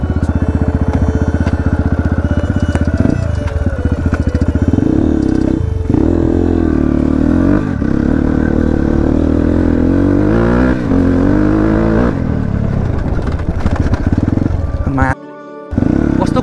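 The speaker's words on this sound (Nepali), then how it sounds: "रोशनीको बाइक एक रट हान्दिउँ भनेर मागेको छु" A motorcycle is ridden hard on a new dirt track at Chunikhel, its engine loud and close, revving and roaring continuously with changing pitch before cutting out briefly near the end.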